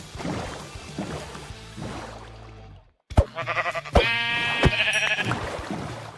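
Minecraft game audio with splashing water and clicks, followed by a sheep's wavering bleat after a brief silence, with another short bleat later.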